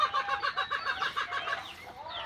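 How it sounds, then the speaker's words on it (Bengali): A group of hens on a small poultry farm clucks in rapid, rhythmic bursts up close, the calls overlapping loudly with no talk. "এক চার পাঁচটা বা দশটা মুরগি এক জায়গায় বসাইলে কি করে ওরা"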